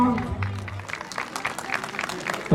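Audience claps at a mimicry parade show, a brief burst of applause heard under a voice talking over it, close and lively.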